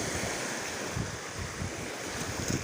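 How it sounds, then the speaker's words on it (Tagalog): Strong sea water rushes and churns around a fishing boat out at sea, a continuous close wash of waves with gusty wind buffeting the microphone and no talk. "Lakas yung tubig guys."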